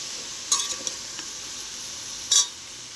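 Boti curry being mixed with masala in a pan gives a faint low sizzle under two brief metallic spoon scrapes, one early and one near the end, close and quiet, with no voices.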